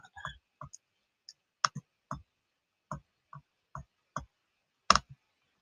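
Quiet, isolated computer mouse clicks, about a dozen crisp taps at irregular intervals, with one louder click near the end in otherwise silent surroundings.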